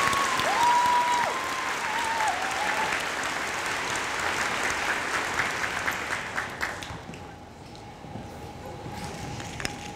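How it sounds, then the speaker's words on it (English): Steady applause from a crowd at a middle school eighth grade recognition ceremony, filling the room for several seconds before thinning out, with a few scattered claps lingering at the end. "let's get a big round of applause for the both of you"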